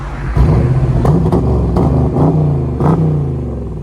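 A 2023 Dodge Challenger with a 5.7L HEMI V8 and Flowmaster Super 10 mufflers revving close by, several deep, throaty blips that rise and fall over a rumbling idle.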